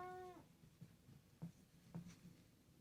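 A pet cat gives a short meow with clear harmonic tones at the start, and soft, faint thumps and rustles follow in a quiet room.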